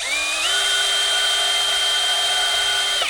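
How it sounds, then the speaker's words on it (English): A power drill with a small bit boring a hole through a metal part of an old Willys jeep, one steady high whine running about three seconds and winding down at the end, close up with no talking. "Just drill right through the bottom of it."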